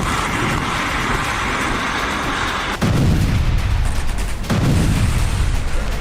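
A Russian T-80 tank fires during an attack on Ukrainian military vehicles, loud booming blasts over a constant roaring rumble, with two heavy reports arriving near the middle and again later.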